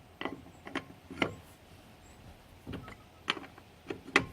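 Car wheel nuts being tightened at the roadside during a wheel change, a series of short metallic clicks and turns spaced irregularly, close and fairly quiet with no voices.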